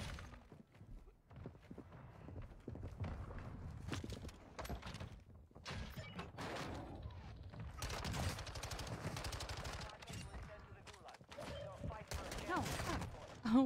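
Rapid gunfire in a battle royale video game, including a fire-effect shotgun, with repeated bursts of shots and impacts over several seconds and excited players talking over the action.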